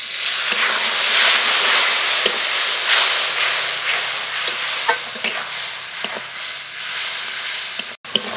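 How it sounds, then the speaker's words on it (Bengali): A spice masala of chilli, turmeric, pepper and chicken masala powders is stirred and fried in a pan until the oil separates, for a chicken curry. It gives a loud continuous sizzle broken by repeated scraping strokes and sharp spatula knocks. "মশলা খুব ভালো করে কষিয়ে নিয়েছি, মশলা থেকে তেল ছেড়ে দিয়েছে"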